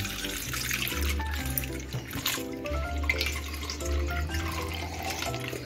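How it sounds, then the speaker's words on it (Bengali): Full-fat milk is poured from above into a karai holding a little water for making paneer, a steady splashing stream that runs unbroken for several seconds. "দুধ ঢেলে দিচ্ছি।"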